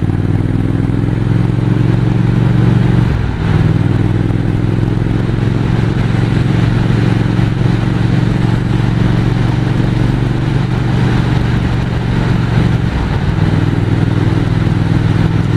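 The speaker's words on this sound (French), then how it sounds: "Le moteur est tellement coupeux, c'est que du bonheur ce moteur et cette moto." Triumph 1200 Speed Twin parallel-twin engine droning steadily at close range while riding a mountain crest road in the Vosges, a loud continuous hum with brief dips in pitch as the throttle eases around bends.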